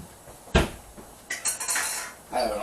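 Pots, pans and utensils clatter in a home kitchen as someone rummages through a crowded cupboard: one sharp bang, then a run of metallic scraping and knocking, fairly close and with no talking.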